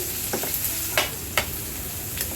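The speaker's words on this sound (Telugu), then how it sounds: "దీనిలోనే కొద్దిగా కరివేపాకు కూడా వేసి ఫ్రై చేస్తున్నానండి" Ginger garlic paste and curry leaves fry in a pan, an even sizzle broken by a few brief scraping stirs of a spoon, nearby with no talking.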